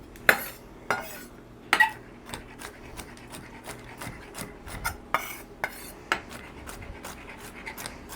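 Sharp, repeated knife taps on a cutting board as sage leaves are roughly chopped, irregular close clicks with quiet scraping between them.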